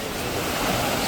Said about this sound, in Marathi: इकडे खवळलेला समुद्र